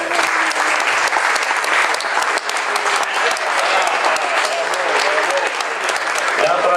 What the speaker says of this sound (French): on devrait tous s'applaudir ensemble